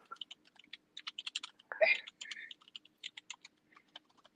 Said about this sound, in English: I'm typing so fast.